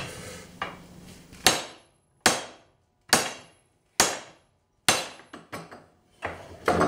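Sharp metallic hammer blows ring out one by one on a TIG weld joining mild steel to spring steel, each strike clanging and decaying, with a few quicker taps near the end.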